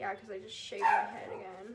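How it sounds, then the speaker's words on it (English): A dog barks and yips a few times in a home, close by and overlapping with a person talking. "That's my dog."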